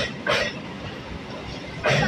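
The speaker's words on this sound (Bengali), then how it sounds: "অন্য সব দিন তো ট্রেন দেখা যায় না, শুধু ট্রেনের শব্দটাই পাওয়া যায়" A train passes nearby, a steady broad rumble with two brief louder swells, heard from outdoors without seeing it.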